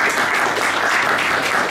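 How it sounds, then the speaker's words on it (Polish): Restaurant audience at a contemporary art auction in Wrocław clapping, a short, dense, loud burst of applause with no gaps. "Brawa poprosimy."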